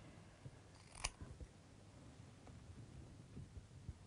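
A single sharp scissor snip during a buoyancy demonstration, heard once, close and clear, over a steady low background hum.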